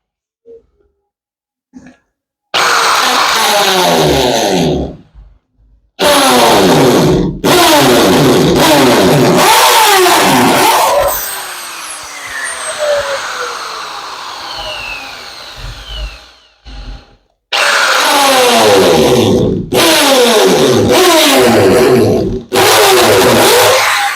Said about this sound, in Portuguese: Vou pegar aqui uma extensão e aí eu vou fazer a furação aonde eu marquei